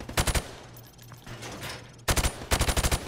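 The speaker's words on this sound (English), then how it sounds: "Now, shoot at the targets while firing from the hip." A gun fires from the hip at training targets in Call of Duty: Modern Warfare Remastered, with short rapid bursts of automatic fire separated by a lull, then two more quick bursts close together.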